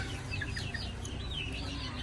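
Hens clucking steadily in a farm range area, several birds close by with overlapping clucks over a constant low background rumble, no voices.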